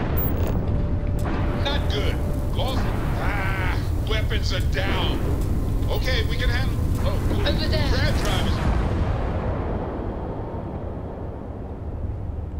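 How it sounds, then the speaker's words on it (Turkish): A spaceship blows up in Starfield: a long, loud, roaring explosion rumbles continuously with a voice talking over it, then slowly thins and fades. "Aa patladık."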